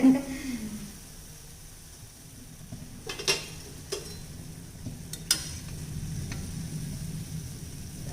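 Medhu vadai frying in hot oil, a quiet continuous sizzle with a few sharp clinks of a utensil against the pan.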